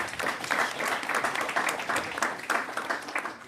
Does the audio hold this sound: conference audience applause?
yes